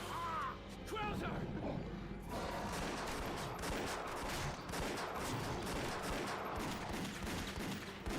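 Pistol fire in Resident Evil: The Darkside Chronicles: a dense, sustained volley of gunshots rattles on almost without pause, loud and continuous, blending with clattering action sounds.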